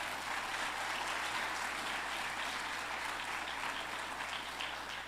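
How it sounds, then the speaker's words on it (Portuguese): A congregation applauds during a church sermon, giving sustained, even clapping from a large crowd that stays steady throughout over a low hum. "Aplauda Jesus por isso"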